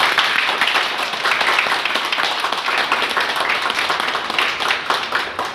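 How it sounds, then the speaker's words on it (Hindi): Sustained, vigorous applause from a meeting audience in Ahmedabad, many hands clapping in a dense, even roar that stays loud throughout, with faint voices underneath. "उसके लिए भी जोरदार ताली होनी चाहिए"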